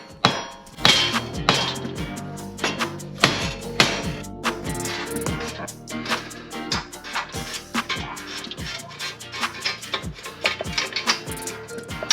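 Repeated metallic hammer strikes ring out from a soft blow hammer hitting the wheel hub of a 2017 Jeep Wrangler JKU during a wheel bearing change, sharp clanks in an irregular rhythm, loud and close, with no talking.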